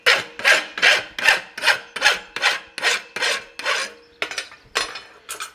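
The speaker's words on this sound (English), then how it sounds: "So I'm almost draw filing it. And so even with a rasp, you can get a really nice finish." A rasp draw-filing a forged horseshoe bar gives about a dozen steady, rhythmic scraping strokes, each a loud gritty rasp, close and alone.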